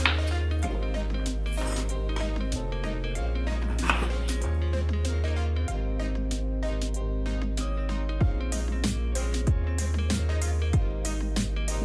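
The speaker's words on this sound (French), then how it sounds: "je fais des petits cubes histoire d'avoir un côté lisse et ensuite je viens retirer la peau comme ça au couteau directement" A knife chops butternut squash into cubes on a board in a steady series of sharp, close taps, some quick and some spaced out, with soft background music running underneath.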